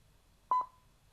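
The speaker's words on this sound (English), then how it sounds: "start with pressing the intercom button for 5 seconds" A Cardo Freecom 2 motorcycle intercom gives a quick double beep when its intercom button is held, two short clean electronic tones, the second trailing off, alone in a quiet room.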